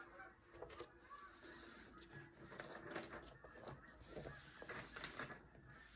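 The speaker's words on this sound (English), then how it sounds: "here comes a bunch of geese. I don't know if you can hear them" Several geese honk in scattered calls at a distance near a park, over a noisy outdoor background with some rustling and faint murmur.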